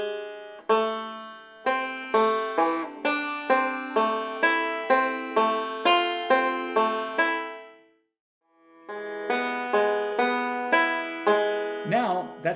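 Bluegrass banjo plays Greensleeves with a backward roll: a brisk run of bright plucked notes in a rolling rhythm, a brief pause, then the picking resumes, close and clear.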